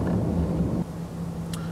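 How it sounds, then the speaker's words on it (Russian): Low diesel engine drone of a 2016 Toyota Land Cruiser 200 heard inside the cabin, a steady muffled hum at idle or low speed, with no talk over it. "Уже шум есть мотора."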